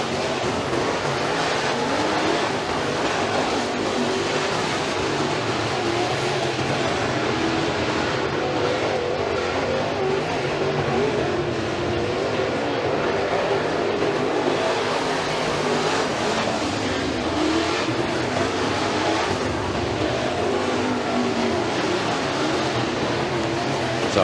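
Rush Pro Mod race cars roar around an oval track during a feature race at Freedom Motorsports Park, engines rising and falling in loud continuous waves as the pack passes.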